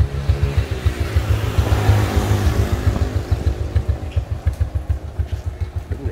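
A Honda RS 100 motorcycle engine runs up close, first revving and then settling into a rhythmic, fast, thumping idle with loud, evenly spaced pulses, and no one speaks.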